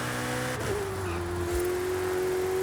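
A Ferrari F8 in Forza Horizon 5 drones steadily and loudly, its turbocharged engine note climbing slightly and then holding a sustained whine with no voices over it.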